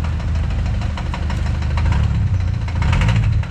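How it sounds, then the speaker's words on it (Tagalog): Kia Sorento engine idling up close, a steady low rumble with a faint rapid ticking knock running through it. "paparinig ko sa inyo yung andar nito"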